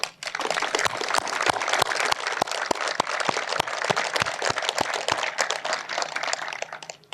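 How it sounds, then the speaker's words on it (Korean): Clapping from the audience at an appointment ceremony for new police inspectors and superintendents, with sharp, distinct individual claps sounding at a fairly regular pace over a softer spread of hands, fading near the end. "국민들과 함께 우리 경찰의 활약에 뜨거운 박수를 보냅니다."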